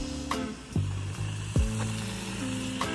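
Steady sizzling of vegetables frying in butter in a pan while camping, a continuous crackling hiss close up, with a few clanks from utensils or the pan.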